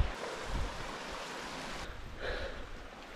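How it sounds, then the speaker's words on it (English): A small waterfall on a hillside walk in the Ochils rushes as a steady, broad, hissing splash, fairly faint and continuous outdoors with no talk over it. "Oh aye, wee waterfall."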